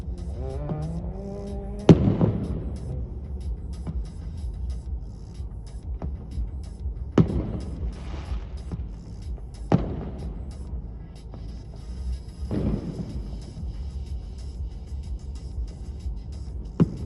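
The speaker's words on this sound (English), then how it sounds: "a group of 20 people were shooting fireworks at each other in an Asda car park." Fireworks going off on Bonfire Night, set off by a group of people in a supermarket car park in Manchester: several sharp bangs scattered over a steady rumbling background, with crackling trails after some blasts, moderately distant.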